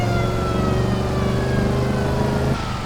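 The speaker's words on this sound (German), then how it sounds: "mit Blaulicht und Sirene." A police car siren in the video game Just Cause 2 wails steadily over a loud, continuous engine drone for about two and a half seconds, then the sound drops slightly.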